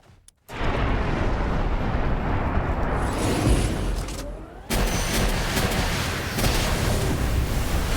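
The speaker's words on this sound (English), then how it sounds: "I'm gonna go ahead and bust out the multi-guided missile launcher" A multi-guided missile launcher in Palworld sets off a rapid, dense barrage of explosions that roars continuously at full loudness. It breaks for a short lull, then the blasting resumes, with no talk over it.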